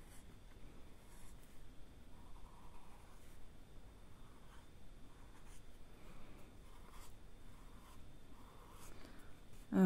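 A pen colours the edge of a bullet journal page, heard as quiet, close scratching strokes that repeat in short bursts.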